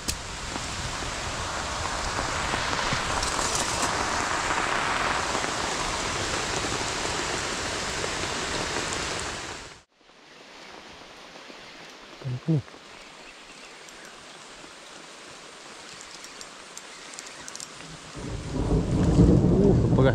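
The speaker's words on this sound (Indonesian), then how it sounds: "Agak-agak hujan tak lama lah." Heavy rain pours by a river, a dense hiss that cuts out sharply halfway, then lighter rain falls with a single close thunder crack and a building rumble toward the end.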